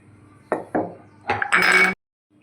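Small ginger pieces pounded in a mortar for a summer mint cooler: a few sharp, clinking strikes close by, two separate knocks and then a quick burst of rattling blows, with no voice.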